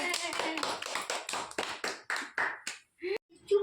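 Several rapid hand claps from children, about a dozen evenly spaced slaps over a few seconds, close and fairly loud, ending in a short pause and a couple of brief voiced sounds.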